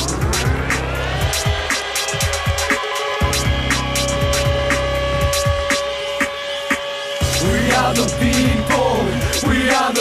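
Intro of a rap song: a loud, dense mix of sustained droning tones and steady rhythmic hits, with a roaring, engine-like texture and a brief drop before the full beat kicks back in.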